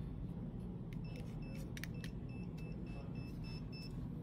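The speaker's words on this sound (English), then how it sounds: "you will hear the audible beeps 5 times, confirming that the motor is programmed" A series of short, faint electronic beeps, five in all, repeating at a steady pace over a constant low hum, confirming a rolling shield motor has been programmed.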